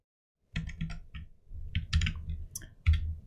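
A command typed on a computer keyboard: a quick, close burst of crisp key clicks in uneven runs with brief pauses, starting after a short silence, with no talking.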